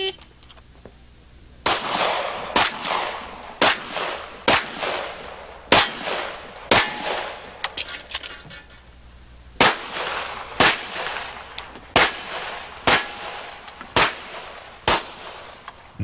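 Rapid strings of sharp handgun shots ring out at a USPSA match, fired in quick bursts with a short pause midway, each crack followed by steel targets clanging.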